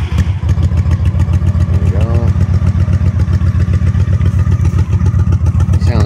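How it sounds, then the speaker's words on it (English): A 2005 Honda Shadow Spirit VT750 motorcycle with a more throaty exhaust than stock idles close by, a loud, even, rapid low thumping pulse held steady throughout, with no popping or backfiring. "A lot more throaty than stock. No popping, no backfiring."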